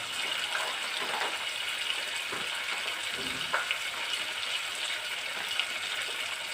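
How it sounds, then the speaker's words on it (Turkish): A steady, soft sizzle of lentils frying in a pan, with occasional light scraping as they are stirred. "Şöyle güzelce mercimeklerimizi de kavuruyorum."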